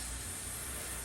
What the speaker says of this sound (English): just spray it down